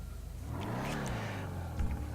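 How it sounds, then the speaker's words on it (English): A Dominator GTX muscle car in GTA Online, fitted with a dual big bore exhaust, gives a brief rising and falling rev, a low rumble that sits fairly quiet and up close. "we're going the dual big bore exhaust with that"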